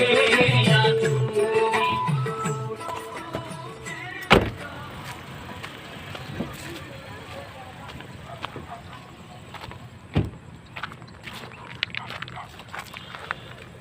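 A car rolls along a rough, poorly kept road near Rudrasagar pond, rumbling steadily at moderate distance with occasional sharp thuds and knocks from the bumpy surface. Faint voices are heard near the start.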